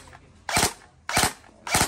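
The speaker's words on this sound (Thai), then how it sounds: "พี่เต้ยยิงโชว์หน่อย อันนี้ทีละนัดต่อไปก็ดับเบิ้ล2นัด" A KRISS airsoft BB gun fires three sharp, loud single shots, evenly spaced about 0.6 seconds apart, close up with no talking.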